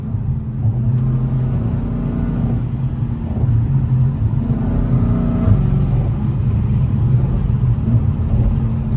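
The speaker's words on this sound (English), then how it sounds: "That fluttering noise is pissing me off in the front." A Dodge Challenger Scat Pack with the 392 engine and catalytic converters deleted, running with a loud, steady low rumble and a fluttering tone that swells slightly midway, with no talking.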